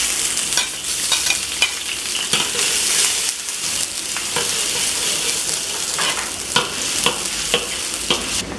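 Onions and peppers stir-frying for home-style fried rice, a steady loud sizzle with repeated scraping and clattering stir strokes throughout, no voices.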